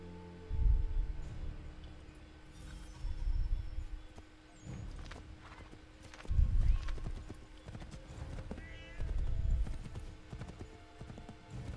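Horse hooves clip-clop in heavy, rhythmic bursts from a galloping mount in Assassin's Creed 3, with brief neighing; loud, close thuds come and go in waves with no talk.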